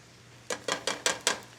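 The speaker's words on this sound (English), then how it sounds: "now I'm just going to grate my garlic over my pan" Garlic is grated over a pan in five quick, evenly spaced rasping strokes, close and crisp against a quiet background.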